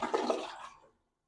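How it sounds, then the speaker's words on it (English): Short rush of a hotel toilet flushing, water swirling briefly and then draining away into silence, heard close up. "We'll flush for all you toilet people."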